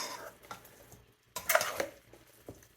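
Sausage, bread and veggie stuffing with herbs, onions and butter is tossed in a bowl, producing soft moist scrapes and clinks of a utensil against the bowl, with a louder cluster of mixing in the middle and quiet pauses between strokes.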